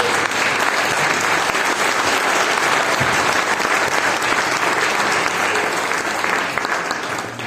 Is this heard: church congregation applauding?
yes